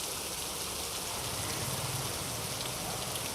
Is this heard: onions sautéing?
no